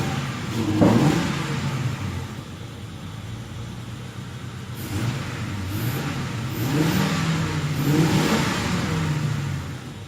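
A Lincoln Town Car demo derby car revs with its air filter removed, its engine rising and falling through several throttle blips over a steady running rumble, close and fairly loud.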